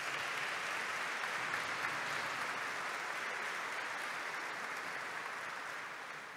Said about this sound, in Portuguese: Uma salva de palmas para os nossos jovens.